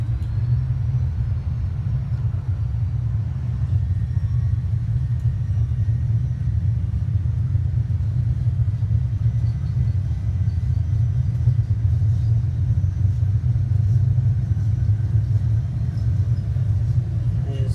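Jet aircraft engines spool up to 40% N1 and then takeoff/go-around power at the end of runway 2, Auckland Airport, heard from inside the aircraft on a test flight as a steady, loud, continuous low rumble throughout.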